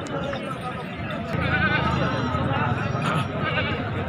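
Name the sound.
goats bleating at a goat market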